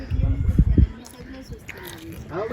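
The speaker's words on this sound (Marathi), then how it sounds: "आम्ही मलाई खातोय" Someone close up bites and chews soft tender coconut flesh at a beach outing, a few moist crunching bites up front followed by quieter chewing, with voices talking over it.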